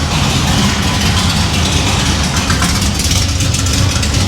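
A supercharged 1955 Chevy Nomad engine runs loud and steady with a blown-off muffler, a continuous raw, rumbling roar close by with slight fluctuations and no talk.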